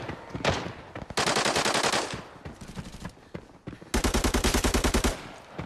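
Bursts of automatic gunfire from bots in the shooter game Arena Breakout, loud rapid-fire volleys in several strings with short pauses between, heard without speech.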